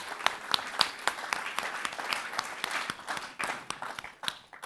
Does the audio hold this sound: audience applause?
yes